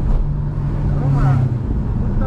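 Car engine revving in second gear while climbing a winding uphill road at Puncak, Bogor, a steady low drone with a rising tone, continuous and close, with faint speech mixed in.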